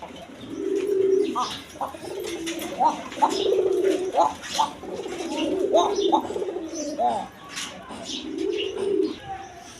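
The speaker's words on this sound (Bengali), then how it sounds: "আপনার রাজগোল্লা কবুতর দেখেন একদম দেখার মতো কোয়ালিটি সম্পন্ন কবুতর" Rajgolla pigeons at a market coo in repeated rolling, throaty calls, close and fairly loud, with faint chirps and background voices.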